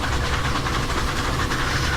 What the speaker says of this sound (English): I don't fancy trying to talk over the top of this loco while it's blowing off